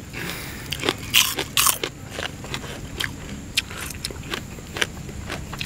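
Close, crisp crunching bites into fresh, crunchy food, a few loud snaps followed by irregular chewing crackles over background noise.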